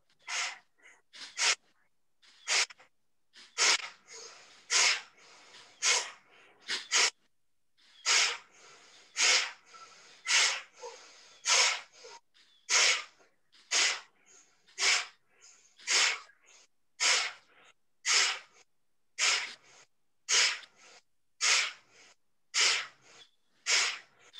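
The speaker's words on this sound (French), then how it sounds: "Vous faites du bruit avec votre respiration." Kapalabhati yoga breathing: forceful, noisy nasal exhalations repeat in a steady rhythm, about one per second, close and loud with brief pauses in between.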